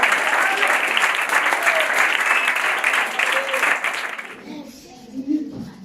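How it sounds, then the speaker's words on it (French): A large church youth gathering bursts into sustained, loud applause with cheering that fills the hall, then fades out to scattered claps and murmurs. "Acclamez très fort"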